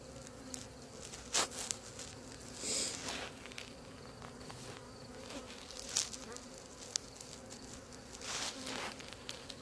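A swarmed honeybee hive being moved into another hive: a dense, steady buzz of many bees close by, with occasional louder passes and light handling taps, no talking.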